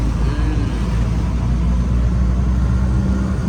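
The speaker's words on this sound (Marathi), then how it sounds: "रिक्षाने फिरतोय आपण ना." Steady engine rumble from an auto rickshaw in motion during a ride, a continuous loud low drone with slight revving and no talking.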